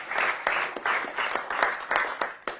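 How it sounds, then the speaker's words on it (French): Audience at a French gesticulated lecture applauds in honour of Niki de Saint-Phalle, a steady burst of hand clapping with rhythmic swells, fairly close and filling the room without talk. "je vous propose d'applaudir Niki de Saint-Phal tous ensemble"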